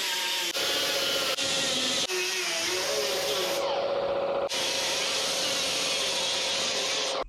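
A 3M Cubitron roll-out disc grinds down a car door handle in bursts, a loud, harsh whine that stops and restarts several times, with short breaks between passes.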